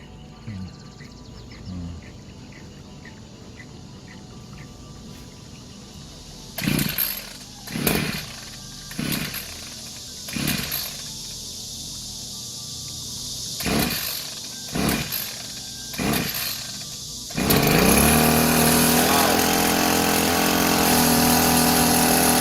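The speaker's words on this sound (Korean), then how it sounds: "시동 걸겠습니다." Engine of a cheap imported pesticide sprayer being pull-started: a run of short roaring bursts from repeated attempts, then the small two-stroke motor catches and runs loud and steady to the end.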